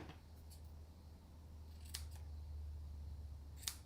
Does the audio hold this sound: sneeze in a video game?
no